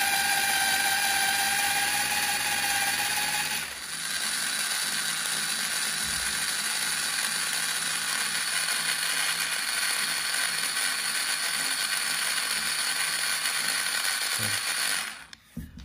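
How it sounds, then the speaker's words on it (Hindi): A drill with a metal bit grinds steadily against a Honeywell fire-resistant, waterproof file chest safe, a continuous loud mechanical whine that runs for about fifteen seconds before abruptly cutting off near the end. "जहाँ पे ये ड्रिल चल रही है आपके सबके सामने, और ये जो है ये एक मेटालिक बिट है जो इसको पेनिट्रेट नहीं कर पा रही है।"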